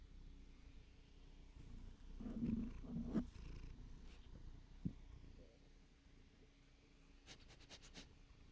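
A house cat purrs softly and steadily, close to the microphone, with a few faint rustles and small knocks over the quiet purr.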